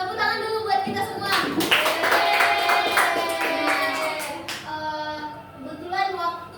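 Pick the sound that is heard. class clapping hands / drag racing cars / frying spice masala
class clapping hands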